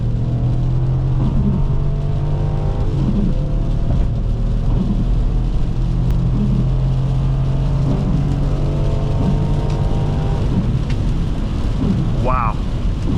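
A 2001 BMW X5 4.4i pulls hard on a test drive, its engine drone rising and falling steadily beneath constant road and cabin noise, heard from inside the car.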